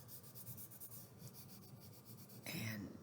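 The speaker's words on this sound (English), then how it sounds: "You can take your pencil and put it on its edge so that as you draw" A pencil held on its edge shading across paper, a soft rhythmic scratchy rubbing in quick strokes, ending with a brief louder swipe, with quiet voice nearby.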